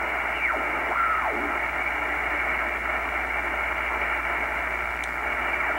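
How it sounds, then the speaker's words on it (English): A digital utility signal on the 120 meter shortwave band comes through a receiver as a constant loud band of hissing, buzzy static with faint sweeping whistles, steady throughout and without any voice. "This is some kind of digital signal"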